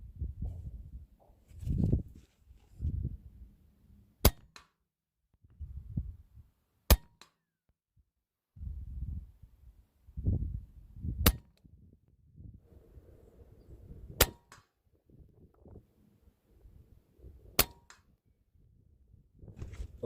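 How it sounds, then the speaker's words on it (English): A Kral air rifle firing .22 NSA 20.2 grain slugs in a five-shot group at 50 yards, five sharp isolated cracks spaced a few seconds apart, with low handling noise and rustling between shots. "let's shoot now. 5-shot group at 50 yards"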